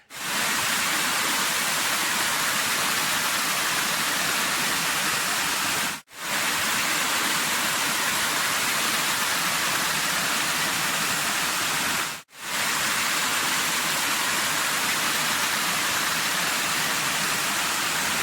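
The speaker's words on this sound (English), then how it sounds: "we're coming up to Splitter Falls" Splitter Falls on the Grampians Peaks Trail in Victoria, Australia, gives a loud, constant rush of falling water that fills the scene from near by, broken only by two brief cuts, with no voices.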